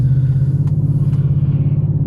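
A BMW 650i's engine rumbles low and steady at cruising speed while warming up, a close, continuous drone with a faint pulsing and no voices.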